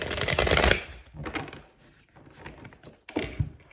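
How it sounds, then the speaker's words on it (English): Tarot cards being shuffled close up in quick riffling bursts, separated by short pauses and softer handling sounds. "Let's shuffle."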